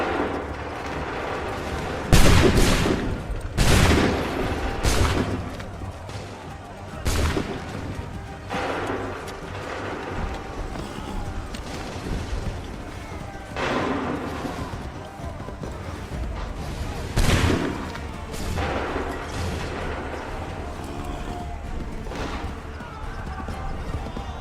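Musket volleys crack out in Assassin's Creed III, a few loud broadband bursts spaced several seconds apart over steady battlefield noise, with shouted commands and speech running underneath.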